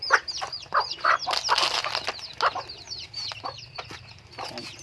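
Chickens on a small Thai farm, loosely scattered, cluck and squawk in a busy overlapping chorus with a few sudden bursts of wing flapping, mid-distance and moderately loud, with no talk.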